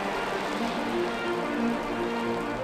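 Heavy rain pours down at a gas station during a cycling trip across Idaho, a dense steady patter drumming on surfaces close by, with no voices.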